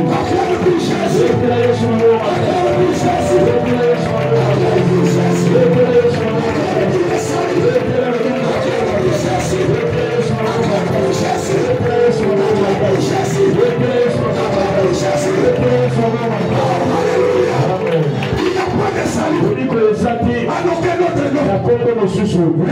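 Congregation at a French-language church service acclaiming and cheering for Jesus, a loud, continuous mass of voices, shouts and music-like tones filling the whole stretch without pause.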